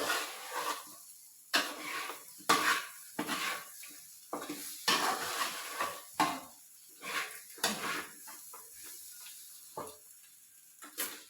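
Beef fry with pepper powder stirred in a pan, a spatula scraping in irregular strokes over a steady sizzle of frying, with occasional clinks of metal utensil against the pan, close and unaccompanied by talk.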